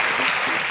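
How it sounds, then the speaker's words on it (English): Applause from a live audience at a televised cooking competition, a dense steady wash of clapping filling the short moment with no voices standing out. "Can we give you an eforiro round of applause?"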